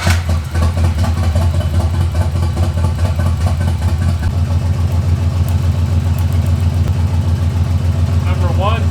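A turbo-swapped Nissan 300ZX engine idling roughly with a misfire on some cylinders, a steady, loud, close-up chugging pulse that runs throughout with slight unevenness.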